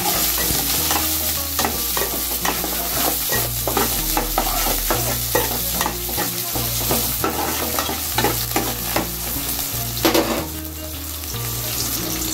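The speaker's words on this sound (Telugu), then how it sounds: "ఆనియన్స్ వేస్తున్నానండి" Chopped onions and green chillies fry in oil in a pan, a continuous sizzle broken by repeated scraping stirs of a spoon, close and fairly loud, with a low hum beneath.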